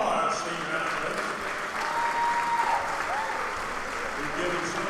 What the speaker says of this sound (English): let's give a good round of applause to all our senior athletes